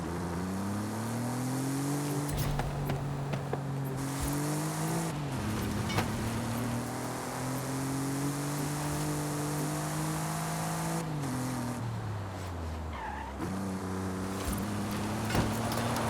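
A car engine in a Forza racing game revs hard for a launch, climbing and dipping through several long sustained whines, loud and close with brief drops between pulls.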